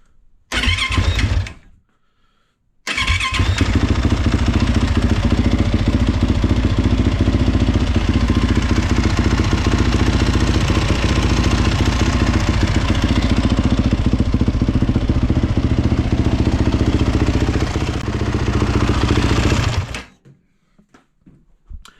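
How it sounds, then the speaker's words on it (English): A 2018-2022 Yamaha YZ450 dirt bike engine starts after a brief first attempt, then runs loud and close at a steady idle for about seventeen seconds before being shut off, with no voices. "start up the bike and let it run for just a second to warm up that oil"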